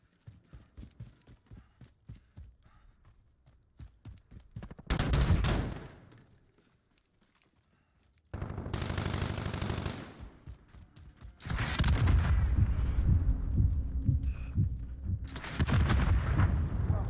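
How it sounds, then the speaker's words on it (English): Cluster strike explosions and gunfire in a military first-person shooter video game: rapid crackling shots in the opening seconds, then several loud, sustained bursts of blasts and fire separated by brief lulls. "Friendly cluster strike inbound."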